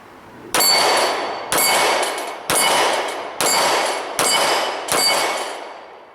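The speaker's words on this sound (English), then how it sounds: "We're going to move over now to our steel head plates and see how we do there." Six evenly spaced 9mm shots from an XD Sub-Compact pistol at 10 yards, each a sharp crack with a ringing clang off steel head plates that decays before the next, outdoors with no talk.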